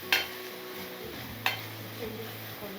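Onions and masala frying in a pan for a home-cooked mutton curry, a soft steady sizzle with two sharp utensil clinks against the pan and a low hum underneath.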